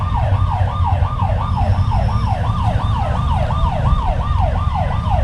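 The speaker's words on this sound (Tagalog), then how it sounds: "Ay, naririnig niyo po, nagawangwang na." Wailing vehicle siren sounding in a city street during a traffic enforcement patrol, a loud, close, regular up-and-down sweep repeating roughly twice a second over steady engine rumble, with no talking.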